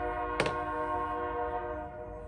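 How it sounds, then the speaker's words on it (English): A horn from a passing train sounds in the distance, a sustained tonal blast holding steady through the whole stretch in a garage setting, with a brief clank near the start. "Darn trains."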